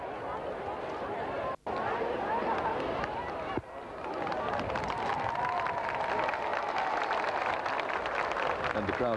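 A large outdoor crowd cheers and applauds the Queen after the signing of the register on a royal visit in 1982, a steady loud roar of voices and clapping that runs throughout with brief cuts.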